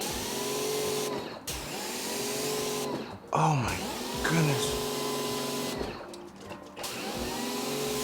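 A steady electric motor hum from an EGO Power+ battery backpack sprayer, its whirring tones changing pitch in steps through speed levels, while a person speaks briefly over it.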